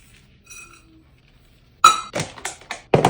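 Shredded coconut being spread over a metal baking sheet, heard as a few sharp clinks and scraping taps of metal on the pan, loud and close, after a quiet stretch with a faint tone.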